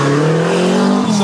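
A Renault 5 Turbo race car at a historic hill climb roars past close by, its engine droning loudly and steadily, then shifting in pitch near the end of the brief pass.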